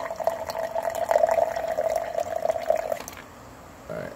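Bang Wyldin Watermelon energy drink pours from a can into a glass in a steady, close gurgling stream for about three seconds, then stops.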